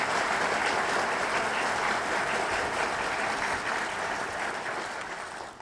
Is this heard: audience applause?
yes